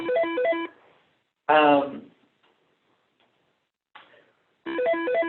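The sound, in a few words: mobile phone ringing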